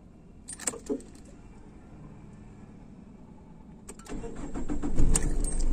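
A Tata Indigo CS car being started with the key: keys jangle near the ignition, a pause, then the starter motor cranks and the engine turns over with rising rumble, close and fairly loud.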